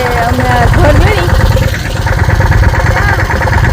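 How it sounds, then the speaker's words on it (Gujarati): A village tractor engine idles close by with a loud, steady low chugging, overlapped by voices for much of the stretch. "ટ્રેક્ટરનો અવાજ આવે એટલે બહુ સંભળાતો નથી"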